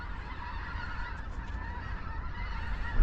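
Flock of geese honking as they lift off after a gunshot during a hunt, a dense continuous chorus of calls over steady low rumble, moderately distant.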